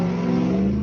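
A car with a loud exhaust revs outside in a brief, steady burst of droning engine roar with a strong humming tone, close and loud, with no voices.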